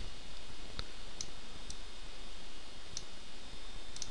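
A computer mouse clicks in a quiet room with steady background hiss, several short, sharp clicks spaced irregularly, some falling close together in pairs.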